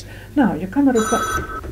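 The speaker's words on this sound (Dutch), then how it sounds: "want dat was de telefoon. Dan kon je misschien wel horen" An old telephone bell rings briefly, a bright metallic trill, under someone speaking Dutch on a 1971 home recording.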